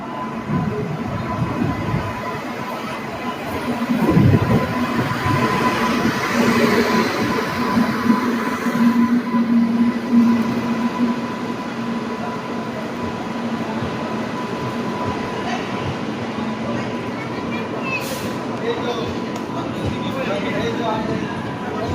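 The Malda Town–Digha summer special train pulls into platform 3 at Digha station with a steady low rumble and rolling wheel noise. Voices of people on the platform carry over it throughout.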